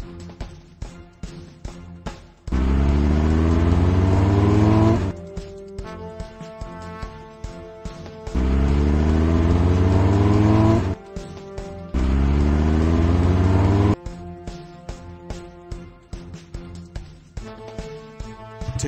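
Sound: fire trucks revving and rolling out in a Nick Jr. video game

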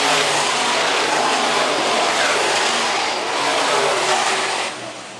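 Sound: IMCA Modified race cars racing on dirt track

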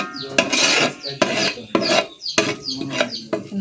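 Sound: stirring onions and green chillies frying in a pan

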